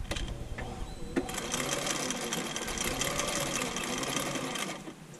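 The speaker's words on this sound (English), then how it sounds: "I'm going to show you how we can sew through that, no problem." A Husqvarna Viking 6460 sewing machine stitches through doubled fabric in a steady, fast mechanical whir that runs almost continuously for several seconds before easing off, close and alone.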